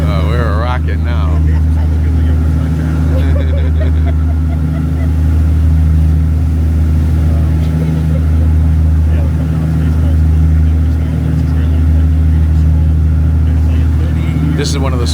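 A small boat motors through rough Atlantic waters off Faial in the Azores, heading for Horta. Its engine drones loud and steady the whole time, a low continuous rumble with a constant wash of noise.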